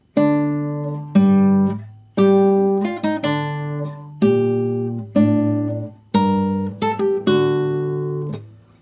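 Guitar plays the C section of the Metal Gear Solid main theme, ringing plucked notes and paired strings with open strings sounding, struck in a slow, measured melody of about ten attacks, clear and close with no talking.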